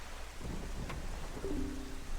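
Steady rain patters with a low thunder rumble in the Wind Waker video game, a constant wet wash with a brief faint tonal chime near the middle.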